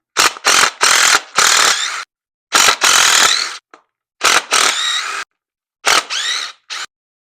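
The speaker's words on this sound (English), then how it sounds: "I'll get these other bolts off." Ratchet clicking in quick bursts as bolts come off the cover of a 2008 Harley-Davidson Sportster under restoration, close and loud, several separate runs of rapid pawl clicks with short pauses between them.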